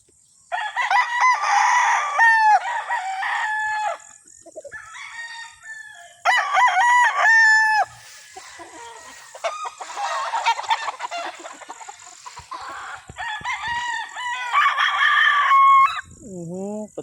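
A Sweater Roundhead gamefowl rooster crows repeatedly and loudly nearby, several long cock-a-doodle-doo calls separated by brief pauses, with a few clucks in between.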